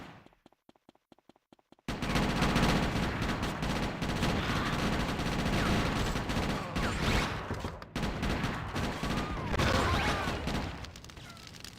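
A shotgun fires in GTA: Chinatown Wars. A quick row of separate sharp shots comes first, then loud, dense gunfire with crashes and booms that carries on almost without a break.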